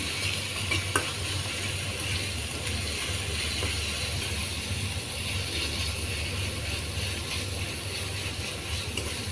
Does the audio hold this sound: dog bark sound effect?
no